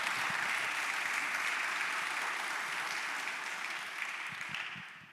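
An audience at a book conversation with poet Tracy K. Smith breaks into steady applause, a dense wash of clapping that holds for several seconds and slowly thins toward the end.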